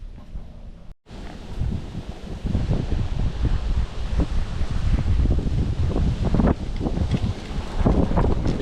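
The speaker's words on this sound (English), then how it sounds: "It is a windy day" Wind buffets the microphone outdoors on a windy day in constant rough roar, loud and close, with gusts swelling and easing throughout.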